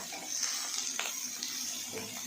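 Water poured into a pot of curry made with potato and taro after the ground cumin, chilli and turmeric spices have been cooked down, giving a steady, close splashing pour with no talk.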